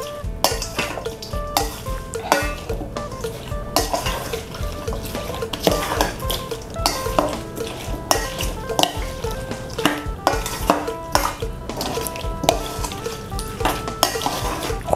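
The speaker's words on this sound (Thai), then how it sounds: "จากนั้นก็คนส่วนผสมทุกอย่างให้เข้ากันค่ะ" Spicy giant octopus tentacle salad is stirred together in a bowl with a utensil, making continuous scraping, clinking and wet mixing sounds in an uneven, busy rhythm, close and fairly loud, with no talk.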